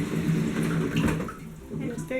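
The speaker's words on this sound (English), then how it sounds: "we just got a new water dispenser" A newly installed Sparklets water dispenser runs loudly up close, its steady watery hum and rushing flow filling the short stretch with no break.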